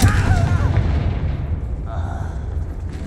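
A Confringo explosion spell goes off in Hogwarts Legacy: a loud, booming blast with a crackling burst at the start that rumbles and slowly fades, with a voice briefly present.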